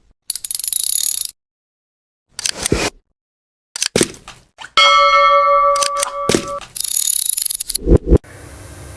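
Bright chiming bell-like notification tones sound in several short bursts, with a sustained multi-tone chime in the middle and a softer hiss at the end, alone with no talk.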